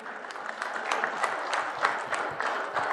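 A crowd in a stadium pavilion at a cricket stadium foundation ceremony applauds to welcome a guest, steady moderately distant clapping with distinct individual claps standing out.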